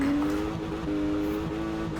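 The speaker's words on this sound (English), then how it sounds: "Big handbrake turn there." A 900-horsepower 2019 Porsche Macan rally build in Forza Horizon 4 drones at steady high revs through a handbrake turn, its engine tone loud, continuous and slightly wavering.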